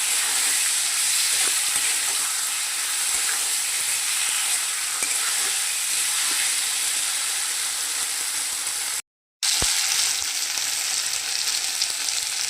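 Spiced curry fries and sizzles in a pan while being stirred, a loud continuous hiss with occasional scrapes and a brief dropout near the end, no speech.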